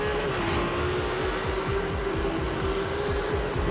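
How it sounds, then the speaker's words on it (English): A Ferrari 298 GTB sports car engine and exhaust rev hard and climb steadily in pitch, loud and close, with a raspy, pulsing exhaust note throughout. "We worked a lot on the engine architecture, on the combustion and on the exhaust system to create this magnificent"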